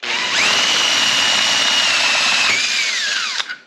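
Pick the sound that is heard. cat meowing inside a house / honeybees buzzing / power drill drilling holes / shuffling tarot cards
power drill drilling holes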